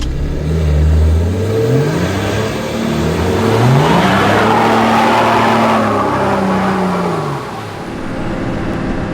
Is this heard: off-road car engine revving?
yes